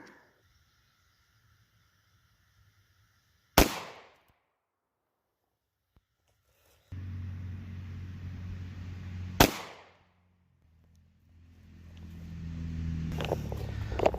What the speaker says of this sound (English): let's go ahead and take the shot through the denim